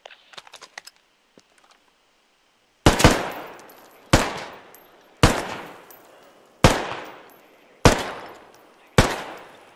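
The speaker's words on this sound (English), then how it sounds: "And then I think it has full auto too" A rifle in the military shooter Squad fires six loud, evenly spaced single shots, each with a booming tail. Faint mechanical clicks and handling noises come first.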